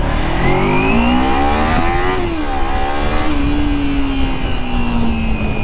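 A Kawasaki motorcycle engine revs hard while being ridden, loud and close, its pitch rising and falling through the gears in a steady continuous drone with no talking.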